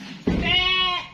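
A local sheep in a pen gives one loud, close bleat lasting about a second, wavering and drawn out. A steady background murmur runs beneath it and no one speaks.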